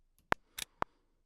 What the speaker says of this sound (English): It's just this like nice little click